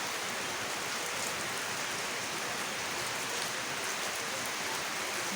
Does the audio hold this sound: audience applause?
no